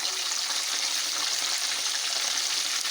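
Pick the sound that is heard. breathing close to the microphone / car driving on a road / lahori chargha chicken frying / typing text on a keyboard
lahori chargha chicken frying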